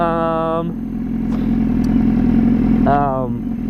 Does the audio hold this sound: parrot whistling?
no